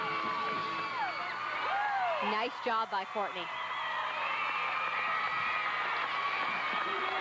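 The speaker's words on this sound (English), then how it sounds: "You can just hear them giving her support, cheering her on." A crowd at a 2005 NCAA college gymnastics meet, Arkansas at Auburn, cheering and whooping steadily for a gymnast in the home arena, with a commentator talking over the noise throughout.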